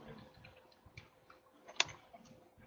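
A password being typed on a computer keyboard: a quiet, sparse run of light key clicks with one sharper tap, heard up close in an otherwise calm room.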